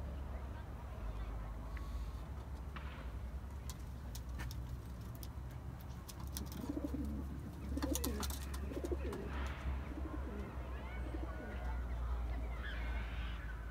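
Pigeons, including a Seferli Sabuni, fly outdoors and coo softly at a distance, with sharp wing-clap clicks in bursts and a faint steady background hum.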